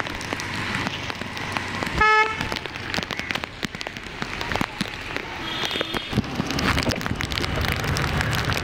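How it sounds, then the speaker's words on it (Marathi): Steady rain patters on surfaces under Mumbai street traffic, with a brief car horn toot early on and a vehicle rumbling past. "हे बघा, छान पाऊस पडतो आहे"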